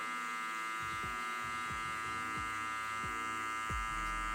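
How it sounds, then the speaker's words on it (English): An electric hair clipper with its lever open buzzes steadily and close up, a constant bright hum, with soft rhythmic low thumps as it moves through hair during a taper fade. "I'm gonna open the lever on the clipper"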